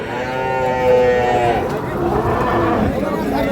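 Crossbred cattle at a rural livestock market in Dinajpur let out a loud, drawn-out moo lasting a couple of seconds, close by, with crowd chatter and people talking underneath.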